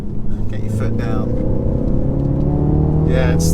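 A 2020 BMW X2 M35i accelerates hard from third gear, its engine droning loud and steady from inside the cabin with rising tones, and a voice briefly audible.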